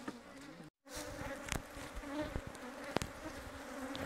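Honeybees buzz around apiary hives during the honey harvest, a faint, steady drone with individual insects passing close and fading, and a few sharp knocks.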